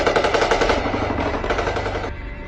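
Rapid automatic gunfire during an attack on people at Baisaran meadow near Pahalgam, loud sustained bursts of repeated shots with no talking, continuing for over two seconds.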